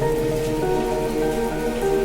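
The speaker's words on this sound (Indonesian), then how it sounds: "rintik gerimis mulai membasahi stasiun, membuat suasana semakin temaram" Steady drizzling rain patters on surfaces at a Javanese train station at night, a continuous, even wash of light droplets with faint tonal hum beneath, no voices present.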